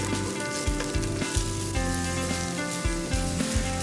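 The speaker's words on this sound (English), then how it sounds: "I'm going to add these to the oil in the pan, and we'll stir and cook these for 2 to 3 minutes." Thin fennel slices sizzle steadily in hot oil in a pan, a loud continuous frying hiss broken by regular scraping and clacking as a utensil stirs them.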